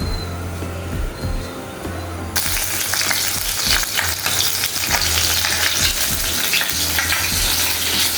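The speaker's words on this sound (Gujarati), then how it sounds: "હું બનાવું છું રસોઈ તો પહેલાં તળીશ મરચાં" Green chillies fry in a pan. A quieter stretch gives way to a loud, steady sizzle that carries on to the end, with no talking.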